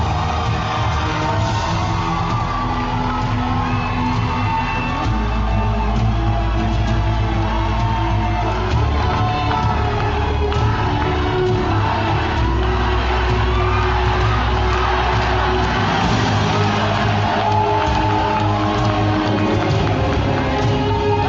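At the Miss Universe Costa Rica 2025 grand final, a large crowd cheers and whoops for the newly crowned queen. The loud, continuous roar of shouts carries over steady background music for the whole stretch.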